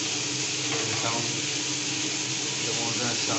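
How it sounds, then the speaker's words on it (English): Steady broadband whoosh of a kitchen chimney exhaust hood motor running continuously at moderate level, with faint frying sizzle mixed in from food being whisked and fried in a pan. "the motor sound you are hearing is basically the sound of the chimney."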